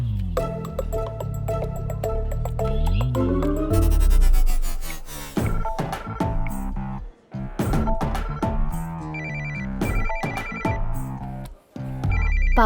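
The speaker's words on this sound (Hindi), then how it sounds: "पापा, किसका फोन है?" A mobile phone's melodic ringtone plays at home while a father and his child are nearby. It is loud and close, repeating a bright tune for several seconds with brief pauses between phrases.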